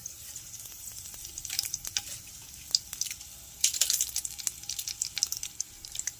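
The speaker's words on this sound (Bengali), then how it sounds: "তেল গরম হলে আমি একে একে গোটা গরম মশলা ফোড়ন দিলাম, একটা শুকনো লঙ্কা" Whole garam masala spices and a dried chilli crackle and sizzle in hot oil, soft at first and then in denser bursts of pops and spatter, with occasional light stirring and no talk.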